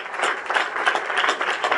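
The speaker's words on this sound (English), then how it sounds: "Let's give Dick a very warm round of" Audience applause at an evening talk, a dense steady wash of many hands clapping at moderate level throughout, with no speech over it.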